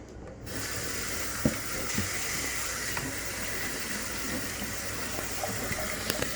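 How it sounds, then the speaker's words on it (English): Shirataki noodles rinsed under cold tap water in a strainer at a kitchen sink, a steady soft hiss of running water throughout with a few faint clinks and taps. "we are going to rinse these with cold water"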